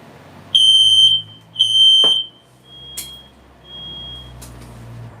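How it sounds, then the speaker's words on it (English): A home smoke alarm going off with nothing burning gives two loud, piercing electronic beeps of about half a second each, then fainter, thinner repeats of the same tone under low room noise. "My fire alarm's going off and nothing's burning"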